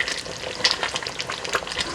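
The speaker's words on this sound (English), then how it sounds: "The sauce is cooking nicely" Jollof rice sauce sizzles and bubbles in a pot, a steady crackling fry with brief louder pops, close and alone without talk.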